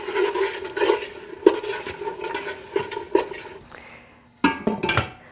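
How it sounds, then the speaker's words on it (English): Holy Trinity vegetables and garlic for gumbo being stirred in a pot, a series of close scraping, clattering strokes in an irregular rhythm, then a brief pause before a few sharper knocks of the spoon against the pot. "And you're going to stir this thoroughly."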